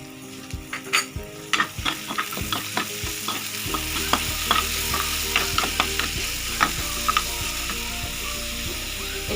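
Ginger-garlic paste and chillies frying in a pan, with steady sizzling and repeated stirring and scraping clicks throughout, close and fairly loud.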